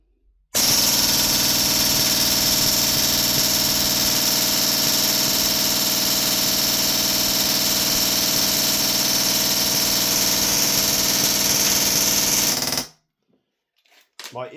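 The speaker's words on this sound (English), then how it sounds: "I'm going to dump all the rounds and see what it does." Heretic Labs Article I airsoft gun dumps a full magazine in one continuous, loud, buzzing burst of rapid fire lasting about twelve seconds, then stops abruptly into near silence.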